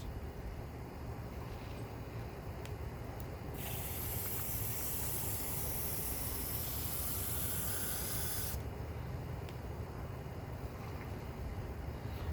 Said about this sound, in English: I'll take the sprayer, kind of rinse it out a little bit, maybe a couple times